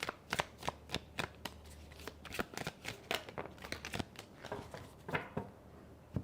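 Tarot cards being shuffled and laid out close up, giving a quick series of crisp riffling flicks and soft taps at an uneven rhythm, with no talking over them.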